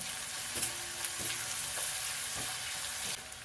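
Curry leaves hitting hot oil for Maharashtrian baingan bharta give a steady close sizzle and crackle, with a few sharper pops and stirring scrapes, and no voices.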